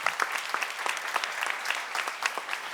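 Brief applause from the audience at a church seminar, a dense run of clapping hands held steady and fairly loud throughout, with a voice faintly under it.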